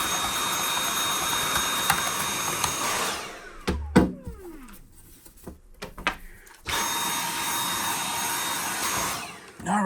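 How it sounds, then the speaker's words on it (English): A vacuum cleaner runs steadily up close over a PlayStation 5 console cover, a loud broadband whoosh that cuts out for a few seconds of quieter knocks and handling, then starts again and continues to the end. "Just going to do a little vacuum on this."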